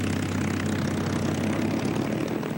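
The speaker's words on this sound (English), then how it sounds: "A large force of American carrier planes took off to strike the Japanese battle fleet." American propeller-driven carrier planes taking off to strike a Japanese battle fleet, a loud, continuous engine roar with a dense droning texture, steady and close, with no talking.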